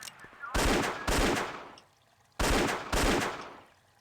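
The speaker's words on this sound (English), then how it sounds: "I don't want to waste all that submachine gun ammo" Four loud, sustained bursts of submachine gun fire from the video game Indiana Jones and the Infernal Machine, arriving in two pairs separated by a short pause.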